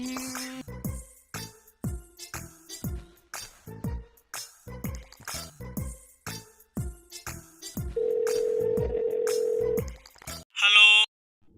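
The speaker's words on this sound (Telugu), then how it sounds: "మన వెరైటీ వెంకీ గారికి ఫోన్ చేద్దాం." Telephone call being placed, with repeated short rings or dial tones in an even rhythm, a steady tone later in the sequence and a brief higher chirp near the end, heard close and alone.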